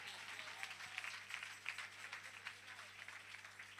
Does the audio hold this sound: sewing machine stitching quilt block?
no